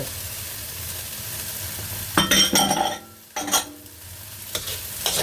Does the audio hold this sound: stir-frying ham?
yes